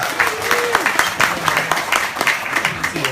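A crowd at a Bikes and Burgers motorcycle fundraiser applauds Jeff Emig, dense steady clapping running the full length with voices calling out over it.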